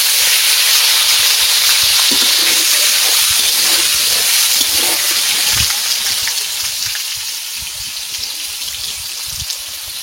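Potatoes for chicken curry sizzle loudly in hot oil, a steady close hiss and crackle throughout that eases slightly toward the end.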